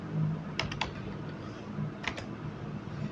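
Keys on a computer keyboard tapped in a few short, light clicks while entering a font size in a website editor, quiet and close with a faint background hum.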